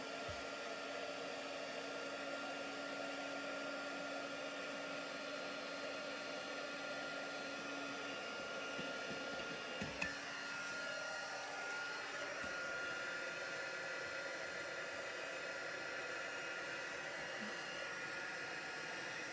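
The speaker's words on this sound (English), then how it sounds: "we're going to get the heat tool heating up" A handheld heat embossing tool blows hot air steadily for the whole stretch, a constant close whooshing hum with a brief bump near the middle, used to melt embossing powder on a stamped papercraft project.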